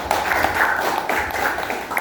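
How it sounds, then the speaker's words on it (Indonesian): Brief clapping from a small group in a classroom-style Christian teaching session, close and somewhat uneven, with a voice faintly present. "Oke, tepuk tangan untuk si Patricia yuk."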